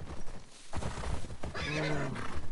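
A horse in The Last of Us Part II video game gives a loud, quavering neigh near the end, preceded by hoof clops and rustling movement, with no speech.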